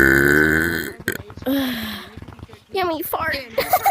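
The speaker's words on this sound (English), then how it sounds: "I will burp you in the face." A loud, long, drawn-out burp pushed close up in someone's face. It runs for about a second, then people start talking and laughing over each other.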